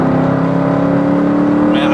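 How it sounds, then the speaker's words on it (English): A Mercedes-AMG with a naturally aspirated engine pulls hard, giving a steady, loud, close engine drone that rises through the rev range without a break. "Man, I just love the pull of an NA engine."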